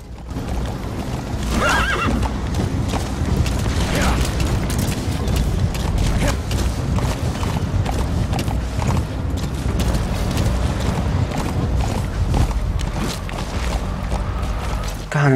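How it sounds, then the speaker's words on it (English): Hooves clatter in a fast run under repeated whinnies from a horse in Metal Gear Solid V: The Phantom Pain, all set against a dense, steady game soundscape. "Horse?"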